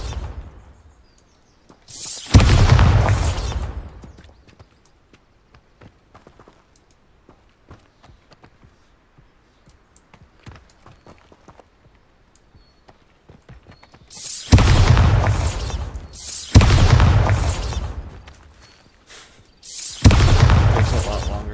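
Bombarda spell explosions in Hogwarts Legacy go off as four loud, booming blasts: one early, then three in quick succession near the end, with quiet stretches between them.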